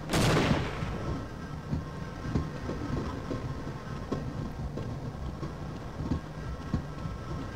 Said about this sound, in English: didn't stop the friggin' train!